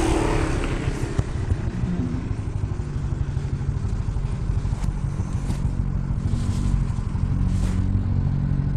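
A motorcycle engine drones steadily while riding uphill toward Bukit Sikunir near Sembungan village in Java, a loud continuous rumble with wind noise throughout.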